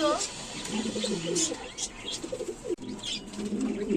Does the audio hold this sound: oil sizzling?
no